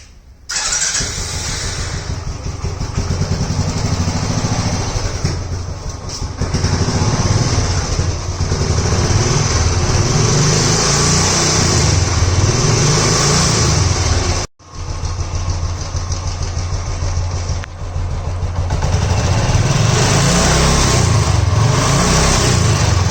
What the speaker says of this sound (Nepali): म यो बाइकलाई स्टार्ट गर्न गइरहेको छु